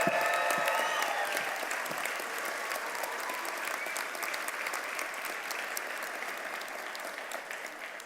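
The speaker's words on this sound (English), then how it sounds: "let's give our candidates a round of applause" Sustained audience applause at an autumn commencement ceremony for degree and certificate candidates, dense steady clapping throughout that starts full and tapers slightly toward the end.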